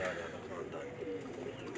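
Low pigeon cooing drifts underneath someone talking at a pigeon keeper's loft, a soft steady murmur throughout the short stretch.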